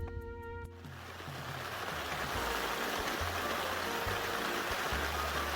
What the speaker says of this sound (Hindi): एंड बारिश हो गई यार।